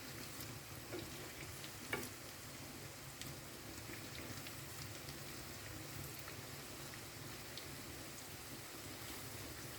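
Spicy fish fries in a pan with a soft, even sizzle that runs the whole time, broken by an occasional faint click or tap as the pieces are turned.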